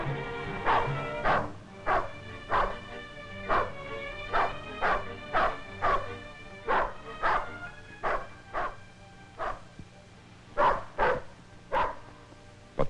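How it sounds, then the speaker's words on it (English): A dog barks while chasing a bear, a long series of loud, sharp barks at a fairly regular pace, close and clear over a faint background with no talk. "It's the dog's turn now to try to stop the bear before he gets across the stream."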